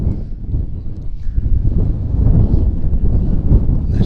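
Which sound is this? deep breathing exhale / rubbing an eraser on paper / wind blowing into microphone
wind blowing into microphone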